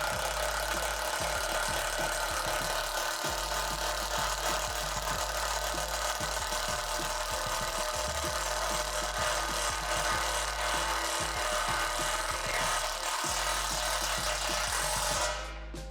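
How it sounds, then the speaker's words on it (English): A self-tapping screw is driven through the metal pole of an in-ground basketball system, a loud sustained grinding drive with repeated low thumps and bursts as the screw bites into the steel, ending abruptly. "we're going to secure the 2 poles together by inserting the self-tapping screw into this hole"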